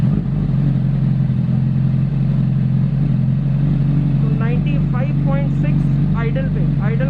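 A Honda CBR 1000RR motorcycle idles with a steady, loud low exhaust rumble throughout, while someone talks over it in the second half.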